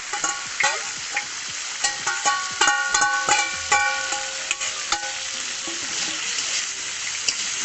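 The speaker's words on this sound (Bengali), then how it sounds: "ভালো করে নেড়ে চেড়ে" A spatula scrapes and taps through kuche fish curry in a pan, irregular ringing metallic strokes over a soft bubbling sizzle, fairly close.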